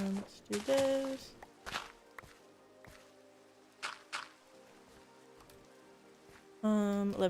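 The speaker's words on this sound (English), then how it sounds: "I can hear myself walking on the mud and it sounds like something is walking up behind me" Footsteps on mud in Minecraft, a series of soft, irregular steps in a rainy outdoor scene with steady rain and faint tonal background sounds, plus a louder sound burst near the end.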